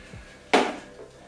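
A plant pot knocks once against a hard surface while a money tree is being repotted, a single close hollow clunk that fades quickly, alone in a quiet room.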